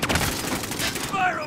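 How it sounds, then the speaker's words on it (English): Rapid video game gunfire in a battle royale match, a dense burst of shots rattling close and loud for over a second, with a voice partly mixed in beneath the firing. "I'm taking fire!"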